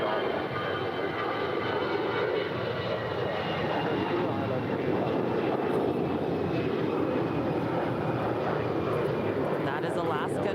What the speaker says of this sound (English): That is Alaska 220 off to Puerto Vallarta. It's an 11-year-old A320.